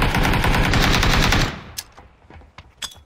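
Rapid automatic gunfire in PUBG rattles out in a dense, loud burst for about a second and a half, then gives way to a few scattered sharp single shots and clicks.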